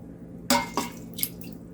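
Water being poured from a cup into a cooking pot spills over, giving a few brief splashes and drips, close and moderately loud, spaced over under two seconds.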